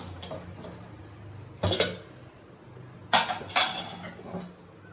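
The lid comes off a pot of cooking mochai bean curry with a few bright metallic clanks and rattles, two close together near the end, against a quiet kitchen background.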